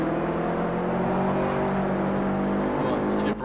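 Race car engine in Forza Horizon drones steadily and loudly with a sustained harmonic whine, with a brief rising rev near the end, under continuous talk.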